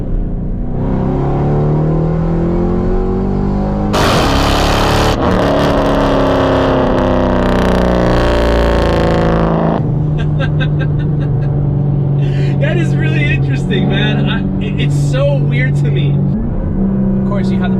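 A fifth-generation Chevrolet Camaro V8 with automatic transmission, driven in manual M mode on a freeway, roars loudly as it accelerates through rising revs, with a brief gear change before the engine climbs again.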